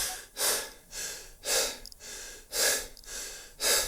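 A voice imitating exaggerated heavy breathing, four loud, drawn-out breaths, each a slow inhale then exhale in a steady rhythm, close to the microphone with no other sound.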